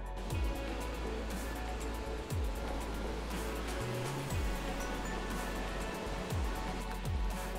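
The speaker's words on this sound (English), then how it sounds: "We found the waterfall!" A mountain waterfall in Fukui gives off a steady, broad rushing roar with no breaks, heard from nearby.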